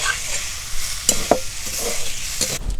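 A spoon stirs kachori filling with chopped coriander in a hot pan, scraping in a few distinct strokes over a soft sizzle, close and alone.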